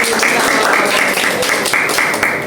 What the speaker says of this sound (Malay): tepukan untuk diri sendiri